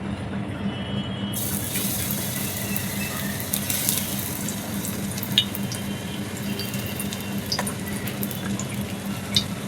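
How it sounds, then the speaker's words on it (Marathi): Besan (gram flour) batter fries in hot oil in a pan, a steady close crackling sizzle with scattered pops that starts after a brief quieter moment and continues throughout. "तेल चांगलं गरम झालेलं आहे पुन्हा आपण हे बॅटर धवळून घ्यायचं आहे आणि मग आपल्याला घालायचं आहे"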